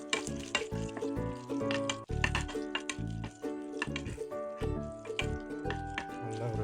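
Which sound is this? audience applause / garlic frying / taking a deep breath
garlic frying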